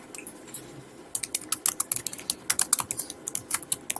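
Computer keyboard typing code, a fast irregular run of crisp key clicks that starts after a second of quiet room tone and continues steadily to the end, close and fairly quiet.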